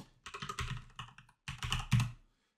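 Computer keys are typed in two quick bursts, entering a command at a Windows 11 prompt, with close, crisp clatter and a short pause between runs.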